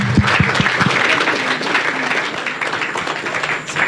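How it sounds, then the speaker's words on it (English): Audience at a Kenya health sector media town hall breaks into loud, dense applause, many hands clapping close by in a steady burst that tapers slightly toward the end. "A round of applause."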